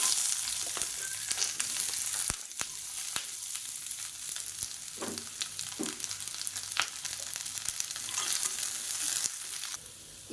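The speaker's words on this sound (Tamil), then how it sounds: "மீடியம் சைஸாக ஒரு பெரிய வெங்காயம் நீளமாக நறுக்கினதை சேர்த்துக்கலாம்." Long-sliced onion, one large medium-sized bulb, sizzles in hot oil in a pan for tomato chutney, with a steady frying hiss broken by occasional stirring scrapes and clicks, close and unaccompanied by talk.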